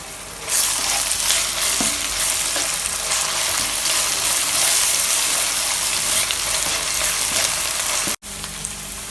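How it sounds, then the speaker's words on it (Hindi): Green chillies and cardamom stirred into hot oil in a pot for fried fish biryani make a loud, dense, continuous sizzle that cuts out briefly near the end, with no talk. "सब्ज़ मिर्चें, इलायचियाँ और इसे अच्छी तरह से मिक्स कर लेंगे।"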